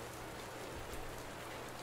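Heavy rain falling on Bourbon Street in New Orleans, a dense, even, close hiss of drops on hard surfaces, continuous and alone throughout.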